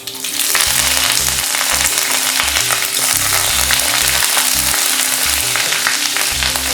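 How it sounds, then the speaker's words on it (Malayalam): Mustard seeds, urad dal, dried red chillies and curry leaves fry in hot coconut oil for a Kerala cabbage thoran, giving a loud, steady sizzle and crackle that runs unbroken, with no talking. "വെളിച്ചെണ്ണ നന്നായി ചൂടായി വരുമ്പോൾ അതിലേക്ക് 1/4 ടീസ്പൂൺ കടുകും കൂടെ 1/4 ടീസ്പൂൺ ഉഴുന്നുപരിപ്പും ചേർക്കാം."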